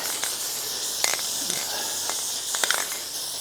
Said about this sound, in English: put just a little bit of paint on it to keep it from rusting